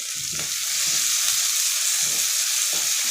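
Tomatoes and green chillies sizzle loudly in a hot pan for baingan bharta, a constant frying hiss broken by a few soft thumps of stirring.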